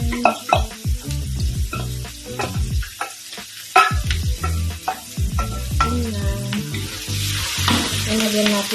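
Shredded chicken stir-frying in a pan for pansit bihon, a loud close sizzle broken by repeated scraping and tossing strokes in an uneven rhythm.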